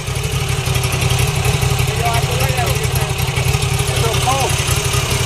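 A Moto Guzzi Italian motorcycle engine runs steadily up close, a throbbing mid-low drone as the throttle is tried, with people talking faintly under it.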